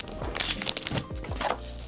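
Unboxing a PC power supply for a budget gaming build: crinkling packaging, cardboard rustles and a few hollow knocks and thunks close by, with no talking.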